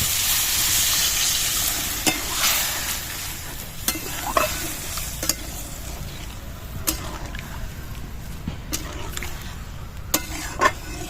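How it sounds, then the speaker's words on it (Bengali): Water poured onto a cooked spice mixture hisses loudly in the pan at first, then settles into softer sizzling, with sharp spoon scrapes and clinks against the pan as it is stirred, for a soybean and egg curry. "মশলাটা কষানো হয়ে গেছে, এবার আমি জল দিয়ে দিচ্ছি।"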